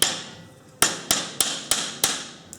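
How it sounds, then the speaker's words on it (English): A 12mm steel rod is hammered into a hole during repair of an excavator hydraulic post hole drill auger: six sharp metallic blows at a steady rhythm, each ringing briefly before the next, loud and close. "Just going to hammer that in there."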